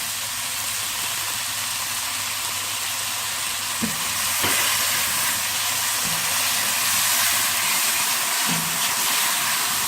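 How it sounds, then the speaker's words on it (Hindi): Vegetables frying with black pepper for a Chinese-style sweet and sour chicken, a steady hissing sizzle with a few soft clinks of a utensil now and then. "ये जो ब्लैक पेपर में सब्जियां फ्राई होती हैं"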